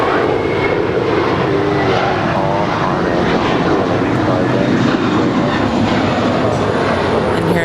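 A three-year-old JetBlue Airbus A321 taking off at LAX bound for Fort Lauderdale: a loud, continuous jet engine roar with a heavy low rumble fills the whole clip without a break.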